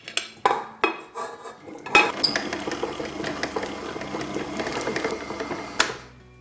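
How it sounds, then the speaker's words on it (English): Butter being creamed in a bowl for buttercream, a run of sharp clinks and knocks followed by a steady whirring, clattering mixer sound, close and fairly loud, ending abruptly. "To begin, I'm going to cream my butter."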